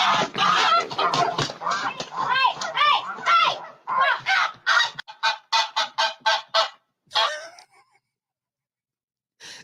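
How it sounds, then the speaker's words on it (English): A goose under attack by an eagle honks loudly and frantically in a rapid run of harsh calls, tapering off into scattered honks before falling silent. "You heard the goose going"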